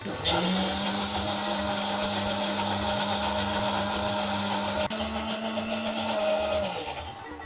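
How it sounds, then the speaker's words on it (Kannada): A mixer grinder blending tomatoes with no water whirs at a steady, loud pitch for several seconds, then winds down and stops near the end. "ನೀರು ಬೇಡವೇ ಬೇಡ, ಹಾಗೆ ಮಿಕ್ಸಿ ಆಗುತ್ತೆ."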